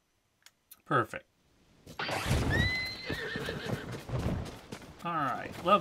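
A horse whinnies briefly in a video game, then clip-clopping hooves and rattling movement continue with more neighing near the end.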